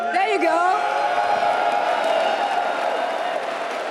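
Large crowd at an esports grand final cheering, whooping and applauding loudly and steadily, a dense roar of many voices filling the hall throughout.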